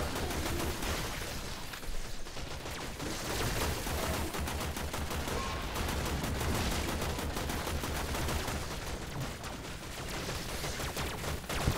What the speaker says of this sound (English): they shoot like lasers or something. Like, do you hear it? It's like, pew, pew, pew, pew.